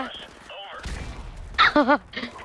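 A single short, booming burst of gunfire in Call of Duty Modern Warfare Remastered, set among voices talking before and after it.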